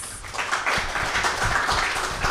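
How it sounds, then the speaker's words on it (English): An audience gives a round of applause for an interview guest, a steady, moderately loud wash of many hands clapping together in a room. "a round of applause"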